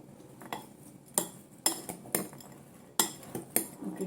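A spoon scrapes and clinks against a bowl while chickpea chaat is mixed with spices, giving sharp, irregular strikes roughly every half second over a quiet background.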